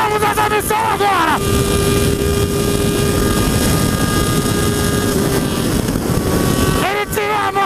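A Honda Hornet motorcycle engine roars loudly and steadily up close, its pitch sweeping at the start and the end as it accelerates and shifts, with a steady drone in between.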